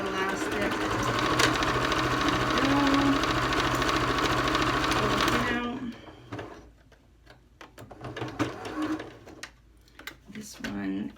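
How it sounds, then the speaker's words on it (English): A sewing machine runs in a loud, fast continuous whir as it back stitches over elastic on a fabric face mask, then stops abruptly and gives way to quieter handling sounds and a voice. "Back stitch a little bit just to go back over that elastic."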